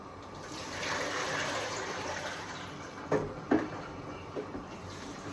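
Water rolls at a boil in a pot for quince marmalade flavored with Port wine, a steady bubbling wash with a few louder splashes and clinks near the end.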